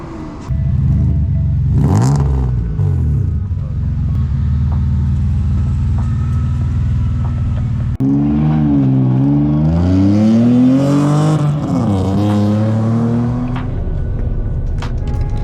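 A BMW E30 with a swapped S50 engine revving and pulling away, a loud close engine drone rising and falling through gear changes, with a sharp rev spike early and strong climbing pulls later.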